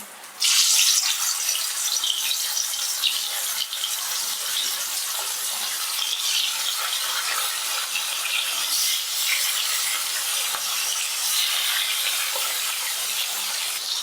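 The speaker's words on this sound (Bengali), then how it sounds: "এবার তেলের মধ্যে মাছের টুকরোগুলো দিয়ে দিচ্ছি" Hilsa fish pieces sizzle in hot oil in a kadai for a Bengali begun ilish jhol, a loud, dense, continuous hiss and crackle that starts abruptly and holds steady throughout with no talking.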